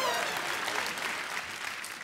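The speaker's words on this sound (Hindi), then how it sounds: "इनके लिए जोरदार तालियां हो जाए।" Studio audience at a television comedy talk show breaking into loud, sustained clapping that fills the room, with some speech mixed in.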